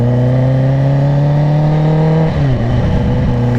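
A Kawasaki Ninja H2 engine pulls hard and loud with a steady high whine that holds, then shifts pitch briefly as it keeps accelerating close up.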